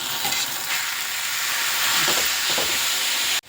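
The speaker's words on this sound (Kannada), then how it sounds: "ಈಗ ಆಯಿಲ್ ಬಿಸಿ ಆಗ್ತಿದೆ ಅಂದರೆ ಹಸಿಮೆಣಸಿನ್ಕಾಯಿ ಸ್ವಲ್ಪ ಹಾಕ್ತೀನಿ" Green chillies sizzle loudly in hot oil in a pan, a steady close hiss with faint stirring scrapes, cutting off abruptly at the end, no talking.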